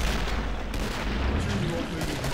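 Heavy, booming shooting in Killing Floor, continuous and loud with a rumbling low end, and someone talking over it.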